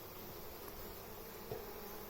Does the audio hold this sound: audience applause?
no